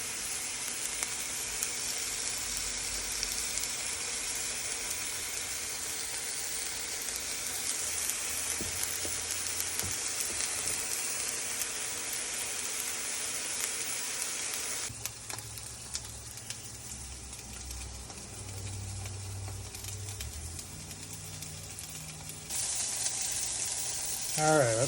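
Ramen burger buns made of noodles fry in hot oil in a home kitchen pan, a steady quiet sizzle and crackle that carries on for the whole stretch and briefly changes texture partway through.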